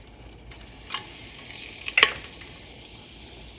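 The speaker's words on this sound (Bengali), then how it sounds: "আমার তেলটা অলরেডি গরম হয়ে গেছে দিয়ে দিচ্ছি কয়েকটা তেজপাতা" Bay leaves dropped into hot oil for a whole-spice tempering: a soft, continuous sizzle close by, with light clinks and spattering bursts as the leaves hit the pan and are stirred.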